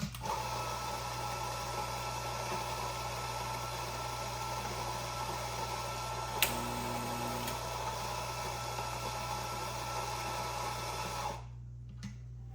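A Gaggia Classic Pro V2 espresso machine pulls a shot, its pump giving a steady close mechanical hum and buzz that runs evenly, broken by one brief click, then cuts off abruptly near the end.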